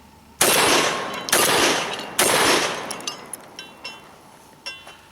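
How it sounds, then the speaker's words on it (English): Three loud, close shotgun blasts from a Remington 11-87 Police shotgun, evenly spaced about a second apart, each followed by a long ringing echo, with lighter metallic clinks trailing afterward. "I'm just going to fire a couple of rounds again, same thing, just so you can see what that looks like."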